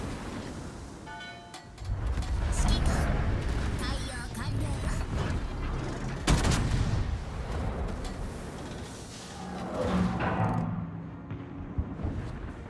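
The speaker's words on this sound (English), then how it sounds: "Come on, little Dallas, open fire." Naval gunfire from the USS Dallas cruiser in World of Warships booms in repeated heavy blasts amid rumbling battle noise, with a sharp crack near the middle and someone talking over it.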